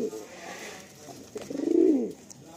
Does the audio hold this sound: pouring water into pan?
no